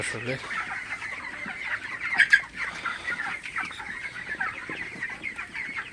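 Broiler chickens in a poultry shed cluck and murmur as a steady, moderately distant flock, with one brief louder squawk standing out midway.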